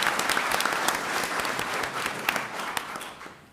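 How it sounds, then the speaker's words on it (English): At a school board meeting, an audience applauds culinary arts students from two high schools, with steady dense clapping that gradually fades out at the end. "So let's give them a round of applause."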